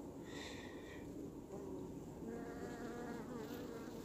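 Honeybees buzzing around an opened beehive frame filled with pollen, a steady close insect drone with shifting pitches, no talk.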